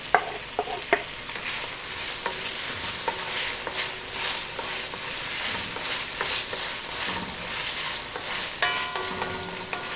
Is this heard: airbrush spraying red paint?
no